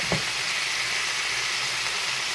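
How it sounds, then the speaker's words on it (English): A butter-basted steak sears in a stovetop pan just after being flipped, giving a steady, close, broadband sizzle with a brief thump at the start and no talking. "I'm going to flip the steak over. There you go. I'm going to let it sear on that side too."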